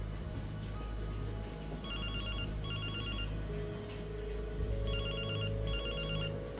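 A phone rings with two pairs of warbling electronic rings, clear above a steady background of music and low noise.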